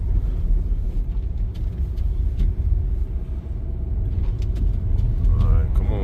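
A 2012 Toyota Camry driving on a snowy winter road, steady low tire and engine rumble from inside the cabin, continuous and fairly loud, with a brief faint whine near the end.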